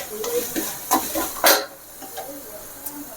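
Chili powder, ginger and garlic sauté in a pan for a chicken gravy, giving soft sizzling with a few scraping stirs, close and moderately quiet.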